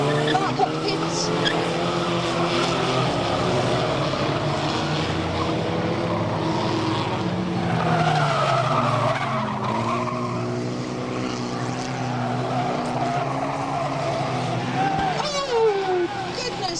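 A race car skids and spins at Fleet Raceway, tires squealing in long wavering screeches over continuous engine roar, loud and sustained, with a commentator's voice running underneath.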